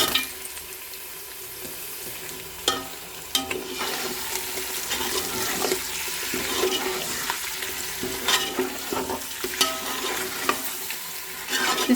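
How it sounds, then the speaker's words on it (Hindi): Chicken pieces frying in a pot with garlic and onion, a continuous soft sizzle broken by occasional stirring clinks and scrapes, close and moderately quiet, with no voices. "अब हम इसमें चिकन डालेंगे।"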